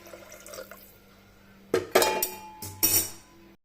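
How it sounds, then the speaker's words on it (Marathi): Water poured into a pot for moong dal khichdi (ghee moong dal khichdi) in a home kitchen, splashing in a few short bursts after a quiet start, close and moderately loud with no talk. "तर आता आपण पाणी घालून घेऊ"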